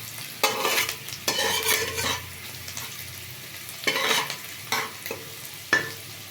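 Onion frying in oil in a pan, stirred until reddish-brown for a tengra (striped dwarf catfish) dish: a steady soft sizzle broken by several louder bursts of scraping and stirring, close by, with no talking.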